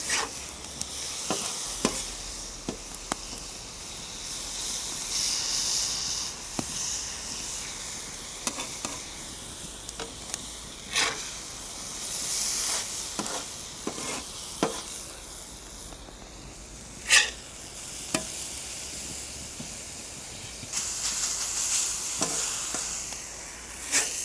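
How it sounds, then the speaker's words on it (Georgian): Onions sizzle and fry in a hot pan while being stirred often, a steady hiss broken by repeated scraping strokes of the spoon, close and alone with no talk. "ხშირად ვურევ ეხა რომ ტემპერატურა მაღალია და არ დაიწვას"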